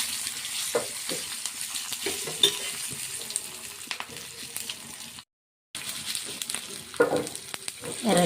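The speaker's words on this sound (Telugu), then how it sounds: "పోపు దినుసులన్నీ ఆయిల్లో వేయించుకుంటాం." Mustard seeds, spices and garlic sizzle steadily in hot oil for an Andhra pappu charu tempering. Stirring clinks sound close by, with a brief silent break midway.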